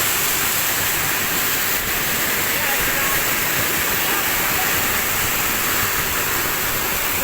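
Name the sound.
waterfall with people bathing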